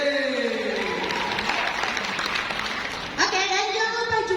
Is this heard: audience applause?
yes